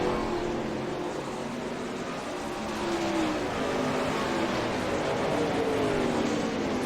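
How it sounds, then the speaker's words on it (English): 410 sprint cars racing on a dirt track, a distant blended roar of several engines rising and falling as the field circles, steady and continuous with no voices. "Guys are doing a good job here in these 410 sprint cars."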